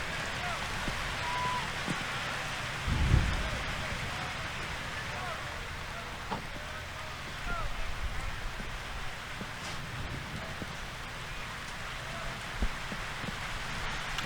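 Heavy rain pours steadily on an outdoor NCAA Division II baseball regional game, a dense continuous hiss with occasional louder splashes and thumps, faint voices in the background.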